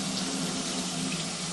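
Running tap water pours steadily into a sink as hands are rinsed during a nurse assistant hand-washing skill, a close, continuous rushing splash with no talking.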